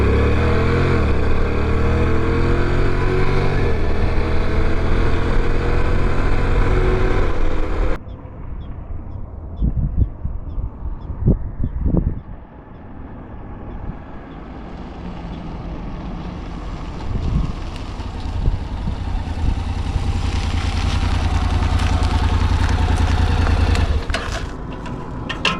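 An adventure motorcycle pulls away from a green light, engine revving loudly for several seconds, then dropping off into wind-buffeted road noise as it cruises.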